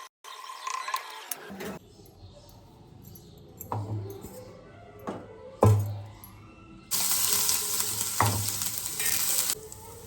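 Vegetable curry cooking in an oil-filled pan on a low gas flame, with intermittent sizzling and frying, a few clanks and stirring clatters, and louder crackling bursts near the end.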